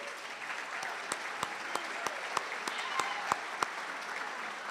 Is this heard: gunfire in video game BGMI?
no